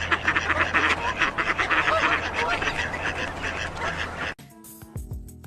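A duck quacks repeatedly and loudly in a dense, noisy burst, then cuts off abruptly into quieter sound.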